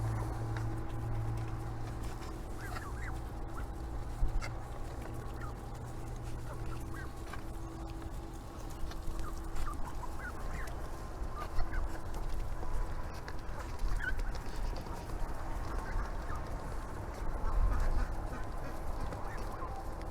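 A flock of ducks feeds eagerly on a farm, a continuous busy chatter of quacks and honks at close range over a steady low hum, with no talking.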